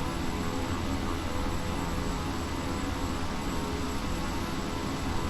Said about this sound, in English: That was a distinct change in the pinch of the engines.